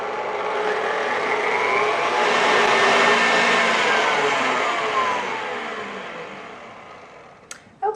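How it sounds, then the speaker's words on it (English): Stand mixer with a whisk attachment beating egg whites, a loud continuous whirring drone that swells and then slowly fades, ending with a couple of sharp clicks. "So I'm going to start whisking these. I've got my mixer fitted with the whisk attachment"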